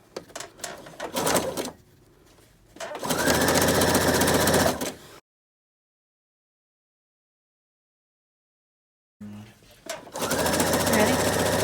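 A sewing machine runs in two long bursts as it stitches elastic held taut onto a fabric face mask, loud and close with a steady mechanical whir, separated by a pause and a stretch of silence.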